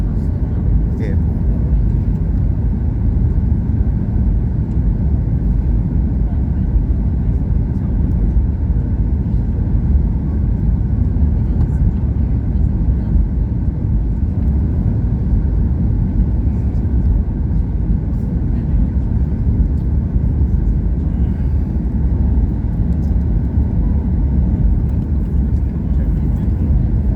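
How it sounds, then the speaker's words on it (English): Cabin of a Singapore Airlines flight descending into Hanoi Airport, with a continuous deep engine rumble and steady roar holding level throughout, with no voices. "Singapore Airlines flight SQ194 descending into Hanoi Airport."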